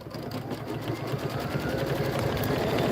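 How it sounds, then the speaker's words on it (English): An embroidery machine stitches background quilting into linen for a Kimberbell bunny-trail quilt block, a steady, fast mechanical whirring and rapid needle clatter that runs continuously and close up. "Go ahead and stitch out your background quilting."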